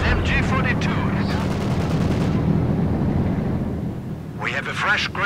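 Battle sounds in Company of Heroes 2, with dense gunfire and rumbling explosions under continuous loud combat noise. Bursts of MG-42 machine-gun fire are possible, and voices speak over the din in places.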